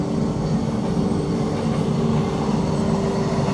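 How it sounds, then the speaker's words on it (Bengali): A local commuter train rolls past steadily, a continuous loud rumble with rhythmic wheel clatter and a faint squeal, no talk. "এখন তোমাদের লোকাল ট্রেন দেখাই"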